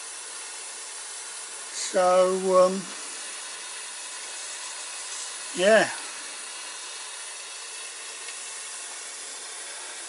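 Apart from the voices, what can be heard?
steam leaking from garden railway locomotive regulator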